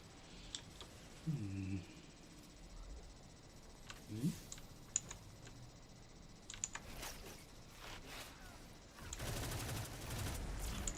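Gunfire in the video game Destiny 2, heard as scattered bursts of shots and sharp cracks at moderate distance, mixed with keyboard and mouse clicks and some quiet voice sounds.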